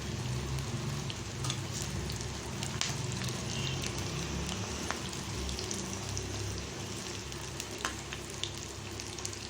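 Onion pakora batter fries in hot oil, giving a steady, close, continuous sizzle and crackle with no pause and no voices.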